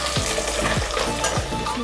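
Mutton liver and lungs fry in oil in a pot with a dense, loud sizzle, while three steady stirring scrapes repeat about every half second.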